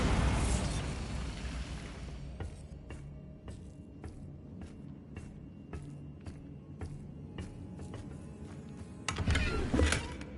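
A Bombarda spell explosion in Hogwarts Legacy on PS5: a broad burst fades into a run of sharp, evenly spaced clicks and cracks, then a second heavy blast erupts near the end.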